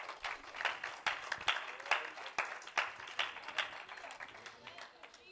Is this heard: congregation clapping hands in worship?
yes